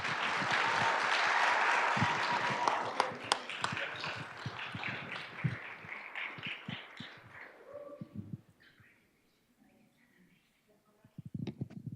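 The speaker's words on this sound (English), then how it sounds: "another big round of applause" Audience applause at a school governing board meeting, a loud sustained wash of clapping for champion student athletes that thins out and fades to near silence, then a brief burst of clapping returns at the end.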